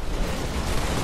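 A grenade blast in Halo: Reach lands as one broad, loud roar that fills the whole moment, dense and rumbling, with no voices over it.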